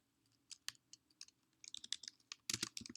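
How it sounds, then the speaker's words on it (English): Quiet, close typing on a computer keyboard in irregular bursts of clicky keystrokes, with a denser flurry near the end. "So I'll just type"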